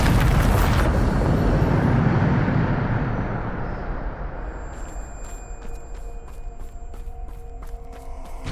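A Bombarda explosion spell in Hogwarts Legacy sounds as a loud, broad blast that rolls into a long fading rumble, followed by quieter ringing, chiming tones and small clicks.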